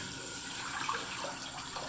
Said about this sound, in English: I'm just filling the Stormtrooper cup up here with water for making the lather.